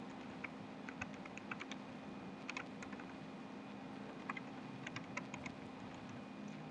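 Quiet typing on a computer keyboard, scattered clusters of light keystrokes over a steady hum of background noise, with no talking.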